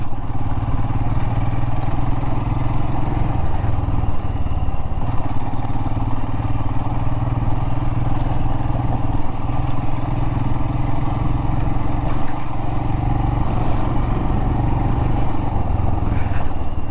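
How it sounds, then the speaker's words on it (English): A Royal Enfield Himalayan motorcycle riding through mud in the desert, its engine a steady, loud drone throughout with light clatter and no talk. "just see how it rides in the mud"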